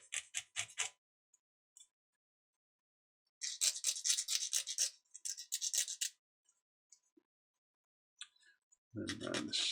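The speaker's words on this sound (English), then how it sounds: "there's a bit of a lip on there, I'll just sand it slightly" Fine sandpaper rasping in short bursts against the lip of a model aircraft canopy, close and dry with quiet gaps between strokes, then a faint voice at the end.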